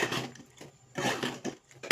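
A cooking pot being stirred after turmeric, asafoetida, chilli powder and salt go into hot oil: close scraping and clinking of a spoon against the pot in two bursts, with a quiet pause between.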